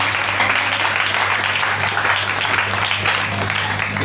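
A church congregation applauding and cheering during a French-language sermon, a dense, steady wash of clapping held at a loud level throughout, with a low hum underneath.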